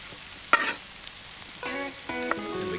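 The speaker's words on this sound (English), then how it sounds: "And then go in the onions." Onions sizzle in a hot pan for a fish curry, a soft steady frying hiss with a sharp clack early on and faint tonal beeps or hum layered in the background.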